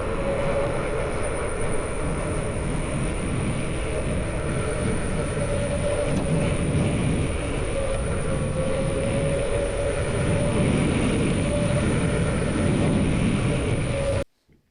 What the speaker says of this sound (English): it has this kind of high-pitched squeal that it makes pretty much all the time while you're riding.